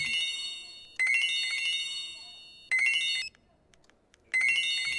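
A mobile phone ringtone plays in a movie scene set in a clinic, sounding in three loud, bright bursts separated by short pauses.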